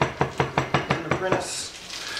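A knife chops mint rapidly on a cutting board, about seven even, sharp taps in a steady rhythm before fading into a soft scrape.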